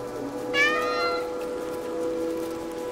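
A cat meows once, a short rising call, in the Stray video game, heard over a steady rainy ambient hum that continues after it fades.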